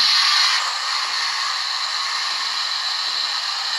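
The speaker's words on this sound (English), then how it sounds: "That's obviously the thing in the tender pushing the coal towards the fireman." Steady mechanical whirring and ratcheting hiss from a model steam locomotive's tender coal pusher sound effect, fairly faint and continuous, no voices.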